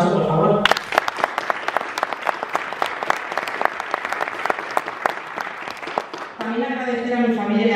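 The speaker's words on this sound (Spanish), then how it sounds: "Un aplauso, por favor." Audience applause at a Vox political campaign event in Toledo, a steady burst of many hands clapping for several seconds, framed by speech before and after.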